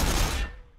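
A burst of gunfire from an Ork versus Blood Angel battle in Warhammer 40000 Battlesector, one loud close crack-filled volley that quickly decays into a fading tail.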